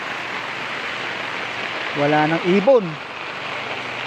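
Heavy rain falls steadily outdoors, a soft, even hiss throughout, while someone speaks briefly near the middle.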